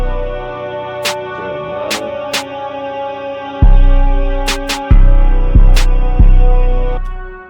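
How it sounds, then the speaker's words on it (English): Heavy 808 bass hits in a Philly drill type beat, deep booming notes that slam in alongside sharp high clicks and a sustained synth pad, loud and close with no talking. "So 808 sound like this."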